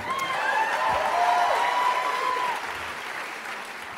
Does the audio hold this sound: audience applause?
yes